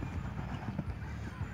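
Horse hooves clip-clopping during a training session, a steady close rhythm of soft thuds under background noise, with a trainer's calls nearby.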